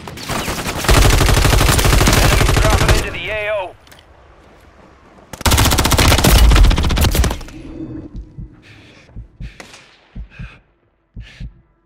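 Bursts of rapid automatic gunfire in the Call of Duty Warzone video game, two long loud volleys separated by a pause, followed by scattered shorter shots and players talking.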